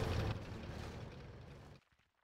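A particle cannon laser strike from Command & Conquer Generals Zero Hour lands as a loud, dense roaring explosion that rumbles for under two seconds, then cuts off sharply into quiet.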